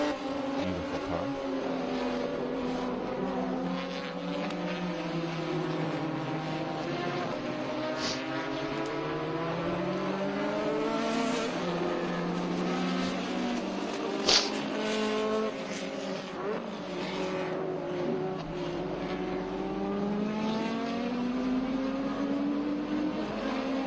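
A red vintage March 722 race car, painted in old Gold Leaf Lotus livery, roars past at an SVRA vintage race at Portland International Raceway, engine pitch climbing and falling through gear changes as it approaches and passes, loud and continuous.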